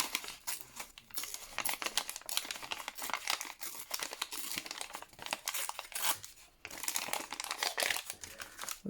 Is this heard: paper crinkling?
yes